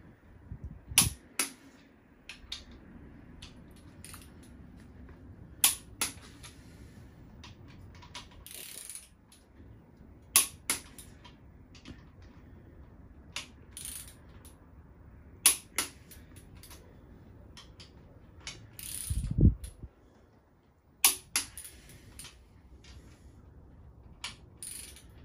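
A torque wrench set to 6.5 tightens bolts during an engine reassembly, giving sharp, bright ratcheting clicks in scattered bursts over a quiet workshop background, with one heavier thud partway through.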